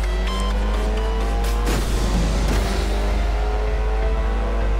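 Race car engine in the racing video game Ultimate Race, a loud, steady high-revving drone with rising and falling pitch and brief tire squeal as the car accelerates and corners.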